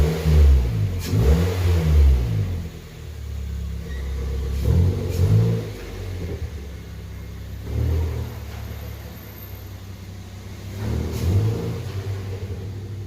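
A Mazda2 fitted with a CorkSport airbox and DDMWorks short ram intake filter revs repeatedly, its low engine rumble swelling in several distinct bursts and settling back to idle, close and fairly loud.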